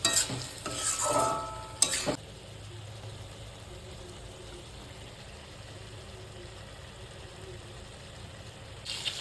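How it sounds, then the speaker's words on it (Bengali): A pan of black pepper chicken masala with garlic and ginger is stirred in a brief burst of clatter and scraping. A long stretch of soft, steady low sizzle follows, and a short scrape comes at the end. "সব কিছু দিয়ে ভালোভাবে নেড়ে চেড়ে নিতে হবে"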